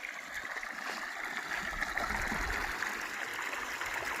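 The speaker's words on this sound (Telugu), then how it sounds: "ఇక్కడ వాటర్ వస్తున్నాయి," A steady, moderately faint rush of flowing stream water in a village, continuous and even throughout, with no voices over it.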